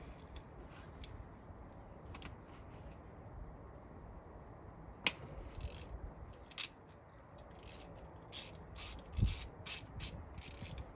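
A ratchet with a 10mm socket loosens injector bolts on a Mercedes SL R107 with Bosch D-Jetronic injection, giving bursts of quick clicking, close and crisp, with a few sharp knocks in between.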